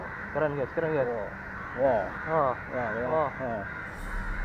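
Crows caw repeatedly, near and loud, in harsh bursts of several calls at a time, while someone talks excitedly between and over the calls.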